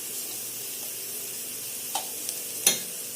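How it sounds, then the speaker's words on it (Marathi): Masala spices for a bitter gourd curry fry in a pan, giving a steady low sizzle with a few small clinks and stirring scrapes near the end. "मसाला चांगला फ्राय झालाय, आपण हळद, तिखट टाकून घेऊया।"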